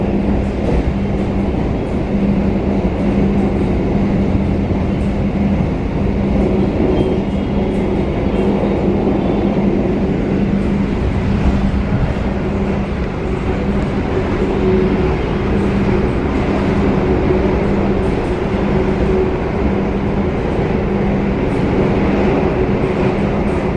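Inside the Argo Bromo Anggrek executive-class express train speeding through Indonesia, a loud, unbroken rumble of wheels on rails fills the carriage, with faint steady tones riding above the constant roar and no talking.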